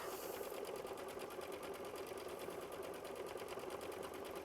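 An embroidery sewing machine stitching a run stitch around a green section of a flower bouquet quilt block, a fast, even, continuous mechanical whir and rapid needle pulse, close and steady, no talk.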